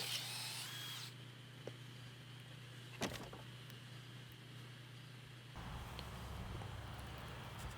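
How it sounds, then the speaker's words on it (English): A drill press spins a plug hole cutter into pallet wood, giving a faint, steady motor hum with a brief sharp knock partway through and a slightly louder, rougher grinding near the end. "So a drill press is probably your best bet."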